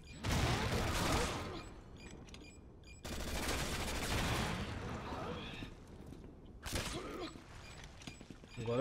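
Bursts of rapid gunfire in Resident Evil 6 come in three loud volleys, with dense crackling shots and mechanical clatter between them.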